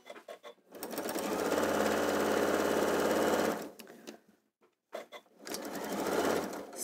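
A sewing machine stitches a quilt seam in one sustained run of fast, steady needle chatter, starting and stopping with short pauses, then starting again near the end.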